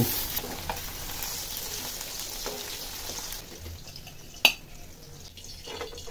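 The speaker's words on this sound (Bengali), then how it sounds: "একটি পাত্রে চার টেবিল চামচ তেল দিয়ে তেলটা গরম করে এর মধ্যে ট্যাংরা মাছগুলো ছেড়ে দিব মাছগুলো এপিট ওপিট ভেজে তুলে নিব" Tengra fish fry in about four tablespoons of hot oil in a pan, a continuous bright sizzle close up, with one sharp pop near the end and no talk.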